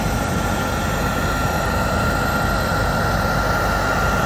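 An aircraft taxis just ahead of a bus, its engine giving a steady, loud, droning whine with a low rumble beneath, unbroken throughout and heard without any talk.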